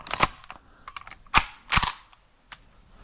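An old airsoft gun fires a two-round burst in cold weather, sharp snapping cracks arriving close and loud in small clusters, with several lighter clicks between them and a final faint pop.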